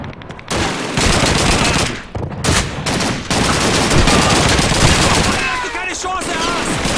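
MG42 machine gun fire in the Call of Duty 2 Russian campaign: dense, loud sustained bursts of automatic gunfire with other battlefield shots, continuing almost without break, with shouted voices mixed in.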